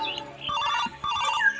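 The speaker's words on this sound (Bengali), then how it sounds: "এই ফোন করছে।" A mobile phone ringtone plays for an incoming call, a loud, close electronic melody heard alone with no voices.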